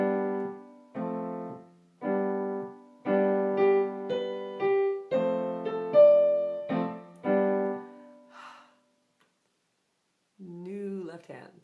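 Piano with one full chord struck at the start of each bar, eight sustained harmonic chords in steady rhythm, close and clear, then a pause before a brief voice speaks.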